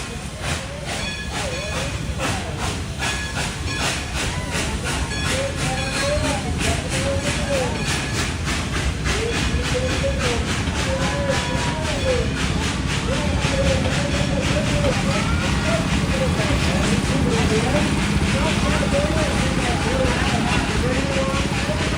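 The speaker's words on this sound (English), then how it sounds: "Let's watch the train take off here." A large train at Dollywood departs, rolling steadily nearby with a continuous rumble, hiss and rhythmic clatter, its pace and noise holding steady throughout.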